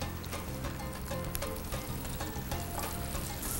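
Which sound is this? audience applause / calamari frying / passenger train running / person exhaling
calamari frying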